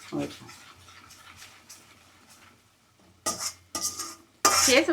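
A spoon scraping and stirring a kalakand milk and sugar mixture in a pan, with soft scrapes at first and then three louder, rapid bursts of stirring near the end.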